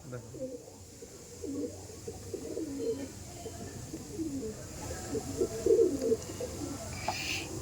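Domestic pigeons in a loft coo in low, repeated murmurs, with soft calls rising around the middle and a little chirping, while someone talks nearby throughout.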